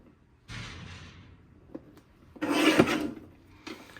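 A paper trimmer slices through scrapbook paper in short scraping strokes, a longer rasp then a louder cut with small clicks between, close and crisp in an otherwise quiet room.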